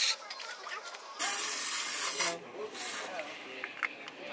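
Sunscreen spray can hissing in a steady burst of about a second, then shorter spritzes, close and fairly loud, with a voice talking quietly around it.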